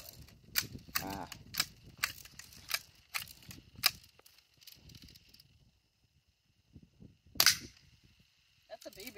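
Sharp snapping BB gun shots firing small pellets, several quick bursts early then one loud crack near the end, with faint rustling and low murmurs between.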